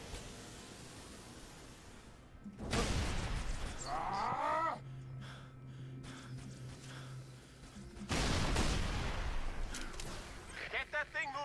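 Battle gunfire from the video game Halo 3: ODST comes in two loud, sustained stretches of dense shooting and blasts, with quieter lulls between them and faint voices in the mix.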